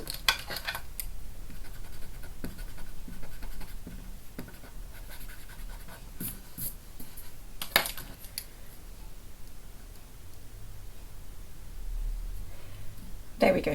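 Pen or pencil strokes scratch across paper while a small rose with stamens is drawn, soft intermittent scratching close by under a quiet room tone, with a brief spoken remark near the end.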